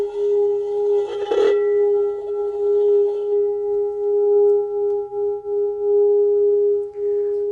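A singing bowl struck with a leather and wood mallet gives one clear strike, then a long, steady, shimmering ring that holds at an even level for several seconds. No one speaks.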